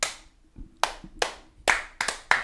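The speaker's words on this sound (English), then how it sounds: "We can get a clap." Hands clap in a sparse, uneven run of about six sharp claps, close and crisp, with a low hum underneath.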